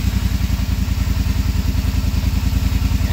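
A 2020 Polaris Sportsman 850 ATV engine idles close by, with a steady low rhythmic thrum and light clatter throughout, no voices over it.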